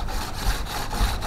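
A sanding block wrapped in medium grade sandpaper rubs back and forth over wood on a cabinet, giving a steady, close rasping with regular strokes.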